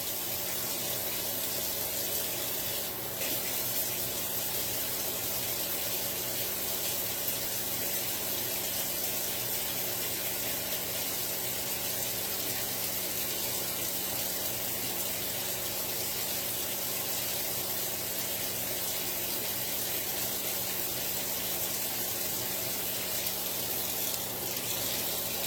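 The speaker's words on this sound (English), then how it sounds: "wash this knife off" Tap water runs steadily into a kitchen sink as a knife is washed under it, a continuous close rushing splash with small clinks and no speech.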